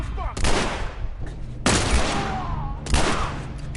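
Three heavy gunshots in The Last of Us video game, each a loud crack with a long booming decay, spaced about a second and a quarter apart, with no talking.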